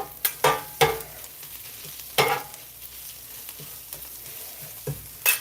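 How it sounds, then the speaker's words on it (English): Onions frying in a pan for a cheesesteak, with a low background sizzle broken by several sharp, loud scraping or stirring bursts spaced irregularly through the clip; no one speaks. "onions are cooking down, nice."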